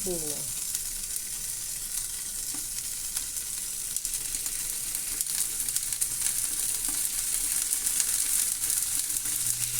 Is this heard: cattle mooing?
no